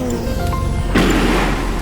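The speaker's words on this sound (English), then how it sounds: "This is the sound of the spaceship that I've added." A spaceship sound effect sweeps by with a rising tonal whine, then a loud deep rumbling whoosh takes over and lingers.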